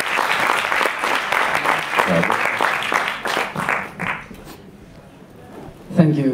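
Audience at a film Q&A event applauds in a dense burst of clapping that fades out midway, followed by a brief moment of quiet before a voice begins speaking.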